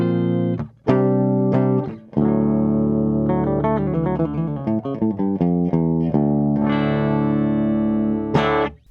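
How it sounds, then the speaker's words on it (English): Electric guitar played clean and unsaturated straight out of the amp, bright sparkly single notes and chords ringing loud and close, no talking. "let's take a look at my clean, unsaturated, just sparkly tone straight out of the amp."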